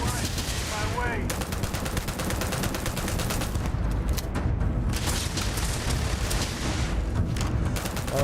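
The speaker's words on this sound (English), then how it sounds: "Oh, Ryan is shooting really fast. Oh, fucking machine gun." Rapid machine gun fire in the video game Starfield, a dense unbroken hammering of shots with heavy booms, loud and close for the whole stretch.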